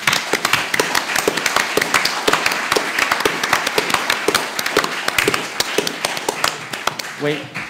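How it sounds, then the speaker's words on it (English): Audience clapping for farmers in the crowd at a Q&A forum, a loud, dense run of hand claps with sharp individual taps throughout and continuing to the end. "could we put our hands together for our farmers who are in the crowd?"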